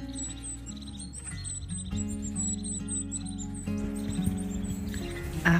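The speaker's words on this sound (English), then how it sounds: "You know, it is late winter when you hear the birds singing." Birds sing in late winter near an alpine wellness hotel in Schönried, Gstaad, Switzerland, with repeated high chirps and tweets over a quiet, faint background.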